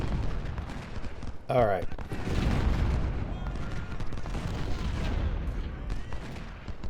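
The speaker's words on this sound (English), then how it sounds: "Pettit is picking apart their artillery" Artillery and musket volleys in the Civil War strategy game Ultimate General: Civil War, with repeated booms and crackling gunfire rolling steadily at a moderate distance while someone talks over the battle.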